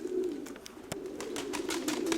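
Soft pigeon coos from a white-tailed bird in a loft of numbered racing pigeons, a low steady murmur running throughout with faint clicks and rustles, fairly close and moderately quiet.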